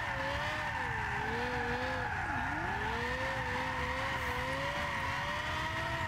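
In Gran Turismo 6, a Lexus LFA Nürburgring Package on stock settings drifting: the engine whines loudly and steadily, pitch sliding up and down, with tires skidding throughout, continuous and close with no talk.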